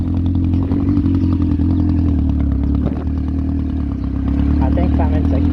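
A Yamaha Fazer 1000cc motorcycle, once scrapped and now revived, runs loud and close while being ridden, its engine a steady throbbing drone with some mechanical clatter throughout.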